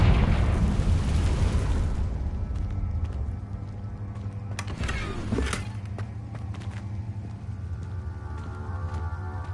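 Confringo fire spell from the Hogwarts Legacy game blasting with a loud, broad explosive burst at the start, which fades into a rumbling tail. A second sharper crackling impact comes around the middle, over steady low game ambience.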